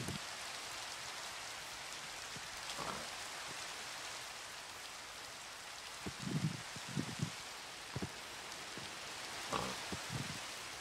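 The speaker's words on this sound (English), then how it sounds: "It's raining again." Steady rain hisses throughout in Minecraft, with a few soft thumps and brief bursts of noise rising over the continuous downpour.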